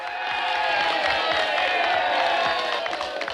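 A crowd of townspeople cheers loudly and continuously, with whoops and shouts blending into a dense roar that holds steady throughout.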